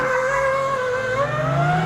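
A high, strained engine note from a straight-piped Lamborghini SVJ's 6.5-liter V12 revving steadily upward, loud and close, with a smooth rising pitch and no voices.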